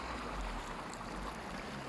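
Steady broadband wash of sea waves at night by the shore, soft and continuous with no distinct breaks, no talking.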